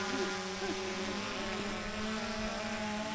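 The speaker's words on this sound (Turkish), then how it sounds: "Şimdi drone çekimimizi yapıyoruz." A camera drone flies in the mountains of Kazakhstan, a steady propeller whine with wind noise, continuous and fairly faint, with no talk.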